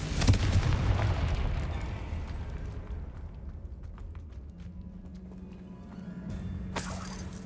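A Confringo fire spell explodes in the Hogwarts Legacy video game, a loud burst of rumbling blast that decays over several seconds into a low hum, with a second sharp flare near the end.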